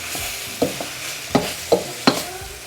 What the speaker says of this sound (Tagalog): Halo lang kayo ng halo dito guys